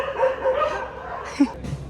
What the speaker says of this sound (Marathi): आयच्या मंदिरातले कुत्रे अंगावर येत आहेत